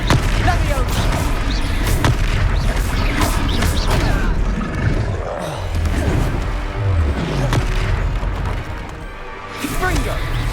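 Blasting spells in a Hogwarts Legacy troll fight crash and boom in a rapid series of loud impacts, mixed with clattering combat effects and a voice shouting over the chaos.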